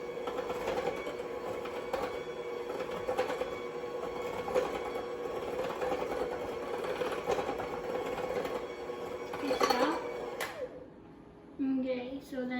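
An electric mixer whirs steadily through cheesecake blondie batter with a droning hum and periodic rattles, then cuts off near the end. Voices are heard afterward.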